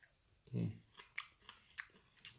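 Quiet, close-up crunching bites and chewing of dried grated hard cheese, several short crackly bursts in a row.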